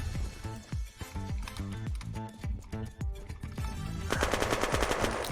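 Rapid automatic gunfire in the video game Unturned, bursts of close, punchy shots in a fast rhythm with short pauses, ending in a dense sustained volley.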